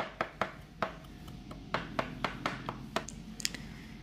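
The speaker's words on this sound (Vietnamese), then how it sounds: "Rồi sau đó mình cũng băm cho nó thật là nhuyễn ra luôn." A knife mincing garlic cloves finely on a cutting board while cooking tomato beef stir-fry, sharp irregular chops repeating close by with no talking.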